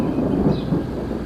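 Thunder rumbling through a heavy thunderstorm with torrential rain and cloud-to-ground lightning in June 1994, a steady low roar of rain and distant rolling thunder holding at an even level for the whole moment.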